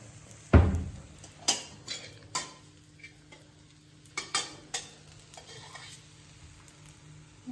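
An onion dosa cooks on a pan with ghee: a soft, low sizzle runs underneath while a sharp utensil clank is followed by scattered taps and scrapes against the pan, with no talking.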